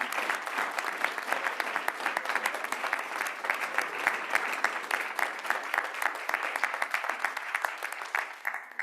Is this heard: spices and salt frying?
no